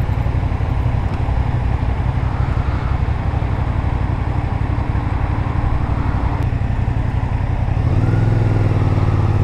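A CFMoto 450SR motorcycle engine runs steadily throughout, a continuous close low rumble with a slight shift in tone near the end and no talk.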